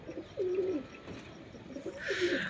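Giribaj pigeons coo nearby while being held and handled, two rolling low coos a second or so apart. Faint rustling and handling noise run under them.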